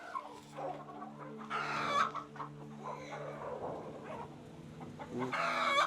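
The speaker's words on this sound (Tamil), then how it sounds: "இப்போ சேவல்களை வந்து தனியை பிரித்து விட்டுருக்கு" Roosters crow and hens cluck on a poultry farm in Sri Lanka, with rooster calls rising loudly at the start, middle and end over a steady murmur of flock noise and clucking.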